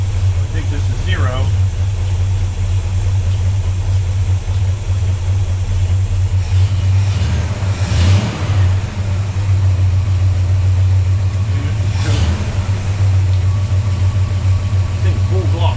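A 1969 Ford Fairlane 500 GT engine idles steadily throughout with a low continuous rumble, close by, while people talk over it and brief tool clatters break in during idle adjustment.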